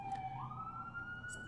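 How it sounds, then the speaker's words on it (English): A paramedic ambulance siren passing outside, its wailing tone rising and sliding in pitch, moderately distant under a faint background hum, no voices over it. "here we have a siren going by, if you can hear that"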